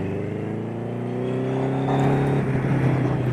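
A Dax kit car fitted with a first-generation Hayabusa motorcycle engine accelerates, its high, rising engine note climbing steadily and growing louder over a few seconds, heard close by.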